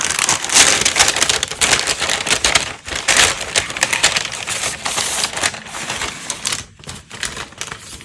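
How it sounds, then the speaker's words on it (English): A paper envelope from a floss kit is torn open close up, giving a run of crisp crackling, rustling and tearing noises with brief pauses. "now I'm going to open envelope number 4 for day 4"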